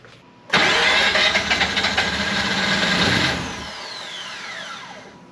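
A Mazda RX8 rotary engine cranks and fires, jumping to a loud, busy roar that holds for a few seconds before settling to a quieter idle with a falling whine.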